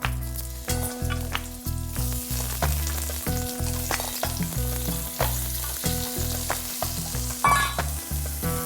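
Onions fry in oil in a pan, giving a steady close sizzle with occasional stirring scrapes, while background music plays along.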